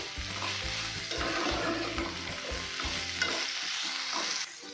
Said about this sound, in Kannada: ಹಾಕ್ಕೊಂಡೆಲ್ಲ 2 ಮಿನಿಟ್ಸ್ ಚೆನ್ನಾಗಿ ಫ್ರೈ ಮಾಡ್ಕೋಬೇಕು.